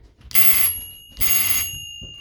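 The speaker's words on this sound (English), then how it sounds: "we also have this Marx crossing bell, and it also works." A vintage Marx toy train crossing bell gives two short, bright metallic rings, each about a third of a second, with a pause between them. The rings are close and clear, with no talk over them.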